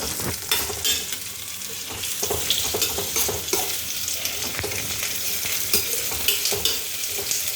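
Onions frying in a pan for a chicken fry crackle in a loud, continuous sizzle, broken by frequent scraping stirs from a spatula, close up and with no talking.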